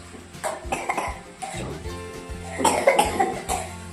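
A person coughs several times in short bursts close to the microphone, with faint dish clatter in the background.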